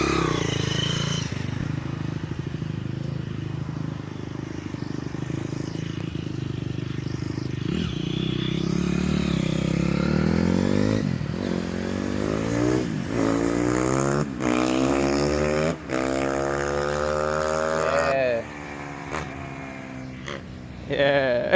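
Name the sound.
250cc dirt bike engine revving, Yamaha YZ250F or Honda CRF250R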